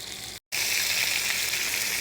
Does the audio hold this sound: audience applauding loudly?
no